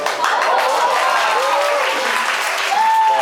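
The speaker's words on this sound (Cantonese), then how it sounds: "你哋拍手掌我好實喎" Audience applause at a singing student mini concert fills the room with steady, dense clapping, loud and sustained, with a few faint voices and whoops mixed in.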